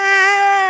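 A person's voice imitating a whiny cat in heat, one sustained nasal wail under a second long, loud and close.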